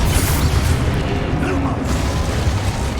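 Spell casting effects in the Hogwarts Legacy video game, heard as continuous loud booming, blasting magic bursts packed densely together in a dense roar.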